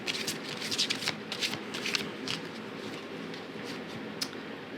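Tarot cards being shuffled and handled, a run of close papery riffles and soft slides with a few sharp flicks as cards are drawn, steady and fairly loud with no talking.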